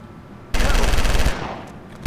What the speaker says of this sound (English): When did shotguns become such an automatic weapon?